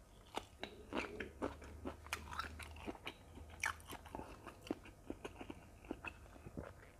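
Beef tendon meatballs eaten with chili, close crisp bites and chewing with irregular crunchy snaps and soft mouth sounds, quiet and with no talk.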